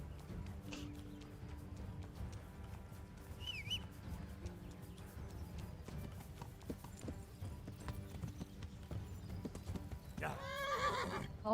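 Horse hooves clip-clop steadily while a horse neighs and whinnies, with a loud whinny near the end, in a video game played in hardcore mode, with faint birdsong in the background.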